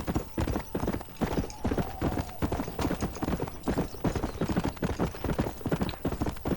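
Horse hooves clip-clop in a steady, rapid gallop rhythm during riding in Red Dead Redemption, loud and continuous throughout with faint game ambience.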